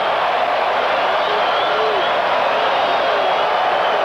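Baseball stadium crowd at the 1988 World Series between Los Angeles and Oakland, cheering and murmuring in a steady, dense roar that holds at one level throughout.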